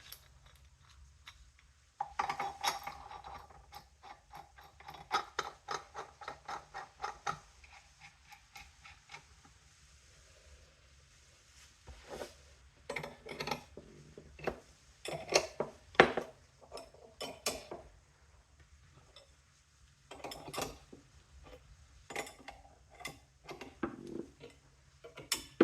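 A presser bolt tool presses the timing cover onto a BMW R69S motorcycle engine during a rebuild, giving quiet, close metallic clicks and ratcheting ticks in irregular bursts separated by short pauses.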